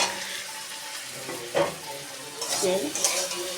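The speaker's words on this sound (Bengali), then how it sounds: "এবার একটু কষিয়ে নেব এবার আমি সবজিগুলো দিয়ে দেবো" Vegetables sizzling and being stirred in a pan for a mixed-vegetable lentil dal, a soft steady fry with occasional spatula scrapes and clinks, close and fairly quiet.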